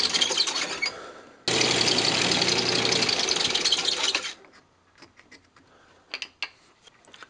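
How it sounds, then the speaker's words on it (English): A parting tool cuts a turned wooden box free on a wood lathe, producing a loud continuous scraping rasp that stops abruptly after a few seconds, followed by faint scattered clicks and knocks. "use the parting tool here to part it off"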